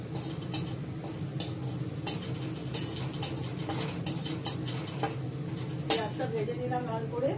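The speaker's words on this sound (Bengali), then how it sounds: "পেঁয়াজটা ভেজে নিলাম লাল করে।" Onions frying in a pan until browned, with a spatula stirring and tapping against the metal in regular knocks over a soft, steady sizzle.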